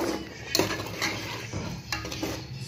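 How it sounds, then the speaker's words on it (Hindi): Tinda (apple gourd) sabzi being mixed with salt in a pan, where a metal spoon scrapes and knocks against the pan in irregular strokes, up close with a light sizzle underneath and no speech. "इसे अच्छे से मिक्स कर लेंगे"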